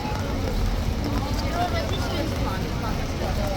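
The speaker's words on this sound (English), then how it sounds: "the gusts of wind blow the rain in your face and in your eyes" Blustery wind buffets the microphone in a constant low roar, with a wash of rain noise underneath; no clear talk.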